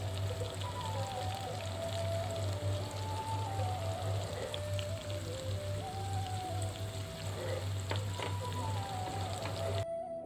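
Washed potatoes tipped into a pan of hot spice masala for a Bengali egg and potato curry, giving a steady close sizzle and crackle with faint stirring scrapes and a low hum running underneath, no talking.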